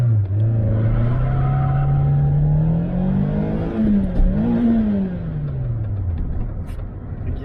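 A Renault Clio 16v Grand Prix accelerates on a wet road, its engine note climbing steadily through the revs, then easing and rising again after a gear change, loud and close throughout with a constant road rumble underneath.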